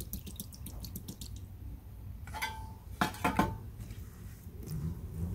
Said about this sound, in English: now the water is coming out again